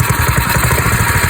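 A Predator 212 small engine on its stock exhaust runs at a steady idle, close and loud, with a rapid, even low thumping pulse and a constant rough mechanical drone.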